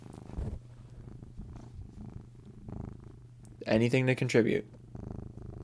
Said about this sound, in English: You just purr all day.